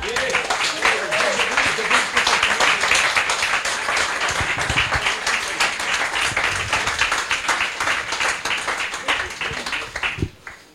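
Loud, sustained applause from a church congregation fills the space, dense clapping continuing steadily before tapering off near the end.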